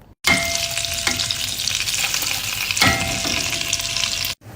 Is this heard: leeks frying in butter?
yes